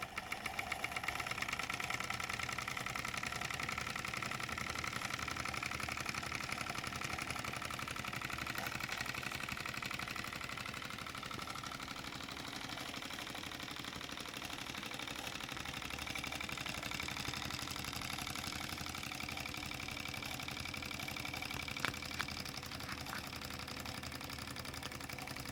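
A Mamod SP6 model steam engine runs with its throttle open, giving a steady, continuous mechanical chugging and hiss at an even level throughout, fairly close, with no voices.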